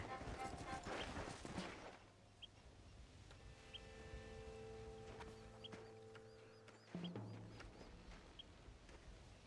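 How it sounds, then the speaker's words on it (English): Horse hooves clip-clop at a steady walk over sustained tonal game ambience in Red Dead Redemption, with a brief thump partway through. "We'll leave the horses here and climb the rest of the way."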